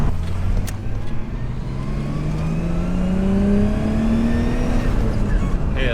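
A car engine from a project build, with the number 3 cylinder earlier not working, revving at half throttle, a loud, close, rising engine drone that climbs steadily in pitch over several seconds before easing off.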